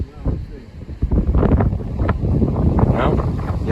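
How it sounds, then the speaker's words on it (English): A strong northeast wind buffets the microphone on an open shoreline, producing a continuous low roar with gusty surges throughout. "I didn't expect it to be this windy"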